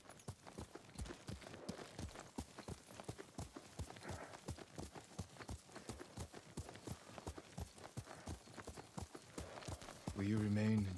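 Steady clip-clop of horse hooves walking at an even pace in the video game Ghost of Tsushima, heard under continuous talking, with a brief louder burst near the end.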